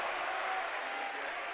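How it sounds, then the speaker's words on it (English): A basketball crowd at a boys' game cheers and applauds loudly and continuously, dense clapping and shouting filling the whole moment. "Their crowd loving it."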